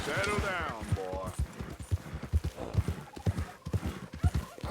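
Horse hooves clip-clop in a steady run of evenly spaced thuds in a video game, with a neigh near the start, while someone talks over them throughout.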